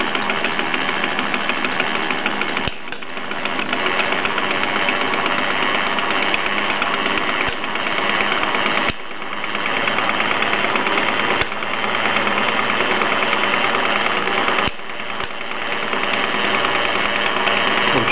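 Bowman E101 toy steam engine chugging steadily with its flywheel, driving twin Mamod workshops: a continuous close mechanical clatter and rhythmic ticking, with periodic brief clunks every few seconds.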